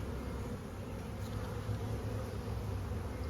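Honey bees buzz around an open hive that is being inspected, a soft continuous droning hum that stays faint and even throughout.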